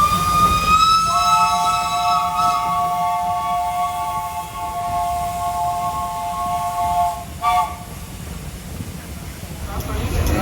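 An antique steam train running from Hua Lamphong to Nakhon Pathom, Thailand, sounds a long, loud multi-tone whistle over the steady rumble of the rolling cars. The whistle cuts off sharply near the end.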